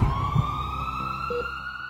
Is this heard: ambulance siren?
yes